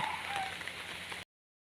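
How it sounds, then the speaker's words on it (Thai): Rain falls outdoors near rice fields as a steady, soft pattering hiss that continues for just over a second and then cuts off abruptly into silence. "ยามฝนตกอยู่นี่"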